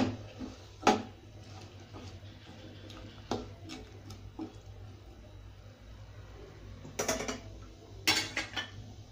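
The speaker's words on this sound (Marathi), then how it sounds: "तेलामध्ये हे मॅरिनेट केलेल्या भाज्या टाका. मिक्स करा." Marinated vegetables for a Hyderabadi veg biryani are tipped into oil in a pot on medium gas and stirred, giving faint scattered clinks and scrapes of a utensil against the pot, with a sharper knock or two in a quiet kitchen.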